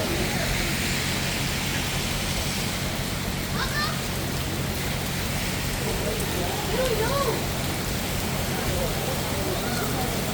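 Rain pouring down during a storm at an outdoor public safety night event, a dense, steady wash of drops on surfaces that grows heavier, with people talking over it.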